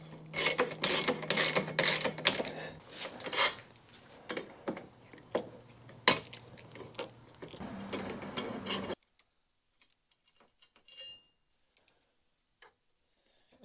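Ratchet clicking in quick bursts as a T40 ratchet loosens the rack bolts on a 2024 BMW R1250 GSA motorcycle, close and fairly loud for several seconds, then stopping and leaving near silence with a few faint ticks.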